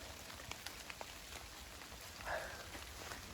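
Faint, steady rain falls in a picturesque forest during a mushroom hunt in Ukraine, with a soft continuous patter and occasional tiny drips.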